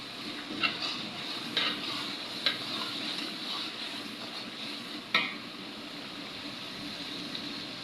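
Ginger-garlic paste fries for chicken biryani with a faint, even sizzle under the stirring. A few sharp utensil clicks stand out near the start and middle, and no voices are heard.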